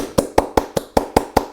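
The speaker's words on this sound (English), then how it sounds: "I've often got them to do that by just clapping my hands together kind of loudly" Hands clap together loudly seven times in a steady, evenly spaced rhythm, each clap a sharp, close slap with a short decay, with no talk over them.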